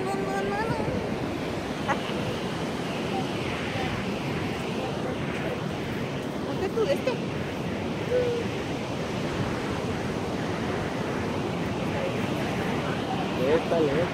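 Ocean surf rolling and washing in at a beach near Santa Cruz, a steady broadband roar with wind buffeting the microphone throughout, while people talk casually over it.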